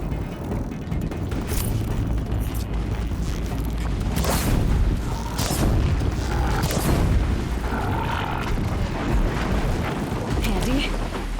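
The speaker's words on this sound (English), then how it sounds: "Les explosions, elles sont super bien faites quand même, je trouve." Explosions in the video game Horizon Zero Dawn go off as several heavy booms over a continuous rumbling, wind-like game soundscape, with someone talking throughout.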